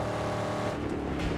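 A powerful car engine roars steadily in the Mad Max video game, a dense, continuous drone with a slight rise in pitch toward the end and no voices over it.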